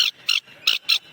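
Four short, raspy parrot-like screeches from a boy mimicking a parrot, evenly spaced and loud at close range, with quiet gaps between.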